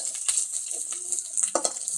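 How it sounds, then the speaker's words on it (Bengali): Ground spice paste frying in a pan for a taki fish curry, with a soft steady sizzle and occasional stirring scrapes, close and moderately quiet, no talking. "ভাজা ভাজা ভালো মতো করতেছে"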